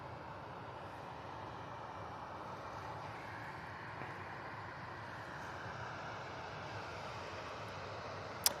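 A Tui Boeing 737-800 departing Manchester Airport for Dalaman produces a steady, distant jet roar that holds level throughout, a broad even rumble with no voices over it.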